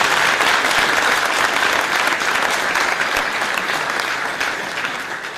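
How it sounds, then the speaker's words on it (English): An audience applauds steadily, a dense wash of clapping that holds strong and then gradually tapers off. "give him a warm South African round of applause"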